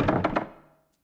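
A locked door being tried in Silent Hill: three quick dull thunks as the handle rattles against the latch, close and solid, then a short fading tail into silence.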